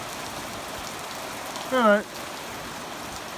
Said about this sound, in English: It's nice to see it rain gently this time.